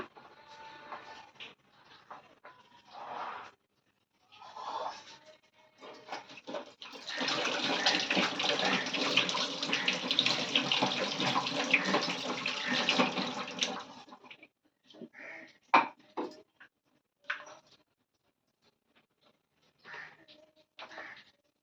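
Water runs and splashes for several seconds as fresh coriander, taken from the fridge, is rinsed in water, with brief clinks and handling noises before and after.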